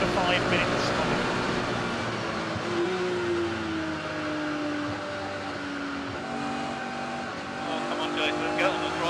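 A Jaguar S-Type saloon race car laps a wet, cold Silverstone circuit in club racing, its engine droning steadily with shifting pitch as it accelerates, while a voice talks over the engine noise throughout.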